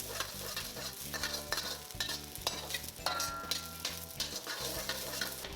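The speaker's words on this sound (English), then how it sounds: "Stir fry until aromatic for about 30 seconds." Garlic, scallions, chili peppers and ginger stir-fry in oil in a wok, a steady close sizzle broken by the quick rhythmic scrape and clatter of a spatula, with no voices over it.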